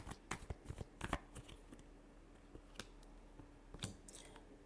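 Playing cards are shuffled in a quiet room, a few quick riffling bursts and soft flicks close by, separated by brief pauses.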